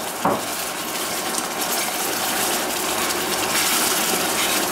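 Cream poured gradually into hot caramel gives a continuous hissing, bubbling sizzle after a short initial splash, steady and close throughout.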